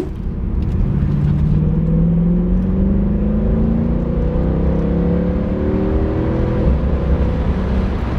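Steady engine drone and road noise from inside a car cruising toward Montpellier, with the engine rising in pitch through a gear, loud and continuous without talk.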